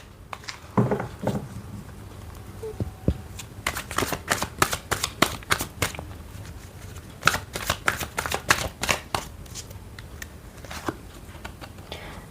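Tarot cards shuffled by hand in a reading, a long run of close, crisp riffling bursts and soft slaps in quick rhythmic clusters, pausing briefly and then resuming, with no talking.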